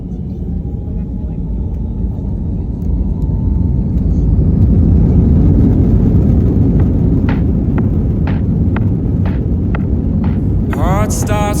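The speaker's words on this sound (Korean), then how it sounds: "차례대로 앞 비행기들이 이륙을 하고 제가 탄 비행기도 곧 이륙합니다." Vietnam Airlines Airbus A321 taking off from Hanoi, heard from inside the cabin as a loud, continuous roar of engine and rumble building steadily, with faint clicks near the end.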